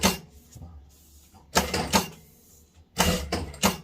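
A Jack A5E electronic straight-stitch sewing machine with enclosed housing runs in short bursts of rapid stitching, then stops with a mechanical clunk as the presser foot lifts automatically; the pattern repeats, close and loud.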